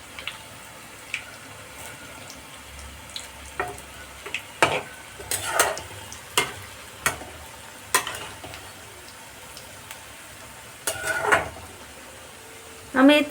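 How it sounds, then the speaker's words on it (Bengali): Cauliflower pieces frying in oil in a pan for chilli gobi manchurian, a steady low sizzle broken by repeated sharp clatters of stirring and turning, close and moderately loud with no talk. "আমি উল্টে দিয়েছি, ভাজা হচ্ছে"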